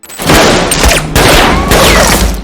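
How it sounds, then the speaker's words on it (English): Loud, harsh bursts of gunfire in quick succession, three dense volleys with sharp cracks and booming low end, close and overwhelming. "Hearing the gunfire coming from another room"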